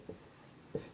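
Pen or chalk writing out a chemistry definition of a colloid during a class lesson: two short scratchy strokes, close and faint, with no voice.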